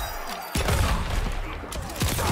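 RoboCop's gunshot attack in a fighting video game: a quick burst of sharp, cracking shots over dense, loud game and crowd noise, with a further hit near the end.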